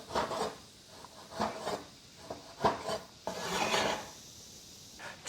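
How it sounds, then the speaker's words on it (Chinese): A kitchen knife cuts singed, scraped pork belly into evenly sized chunks on a wooden board, giving repeated rasping strokes and dull knocks in an irregular rhythm, close and fairly quiet with no voices. "切成大小均匀的坨坨"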